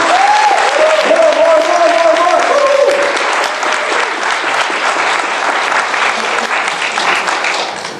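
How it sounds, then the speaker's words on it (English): An indoor audience at a business event breaks into loud, sustained applause to welcome a speaker to the stage, dense clapping under a brief amplified voice at the start, fading slightly toward the end. "Give her a big hand."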